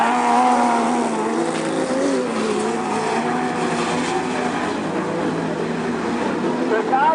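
Super Stocker race cars roaring around a track in the Freightliner Trucks Series, passing lapped traffic, a continuous loud blend of several engines with shifting pitch, under an excited commentator talking throughout.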